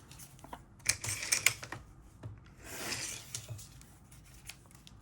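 Scissors snip a small paper scrap for a mini accordion craft folio, a few sharp close cuts followed by a softer rustle of paper being handled.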